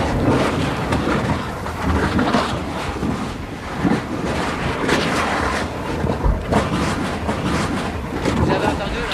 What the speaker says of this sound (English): Did you hear that? The explosion of the lava.